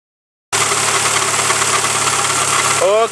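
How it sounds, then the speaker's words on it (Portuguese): A 1993 Suzuki Vitara 1.6 8V engine with a freshly repaired throttle body injection unit starts abruptly and idles slightly high, a loud steady mechanical drone heard close, with a brief voice near the end. "A marcha lenta ainda está um pouquinho alta, tá?"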